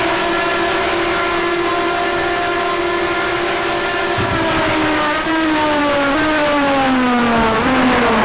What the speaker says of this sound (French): Quel bruit ces Matra.